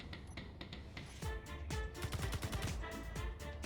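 Rapid automatic gunfire in the game Space Engineers, a dense stream of overlapping shots that is loud and steady throughout, with no talk.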